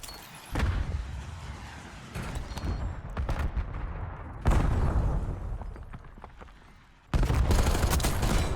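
In Black Ops 6, an Archangel scorestreak fires heavy barrages, with loud bursts of rapid explosive fire separated by short gaps and trailing booms as the volleys land.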